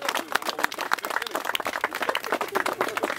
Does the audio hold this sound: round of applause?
yes